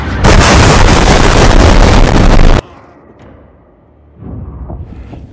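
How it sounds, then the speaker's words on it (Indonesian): A massive cinematic explosion from the film Transformers: Rise of the Beasts roars loud and dense for over two seconds, then cuts to quiet debris rumble and a softer swelling blast. "ledakan hebat pun terjadi."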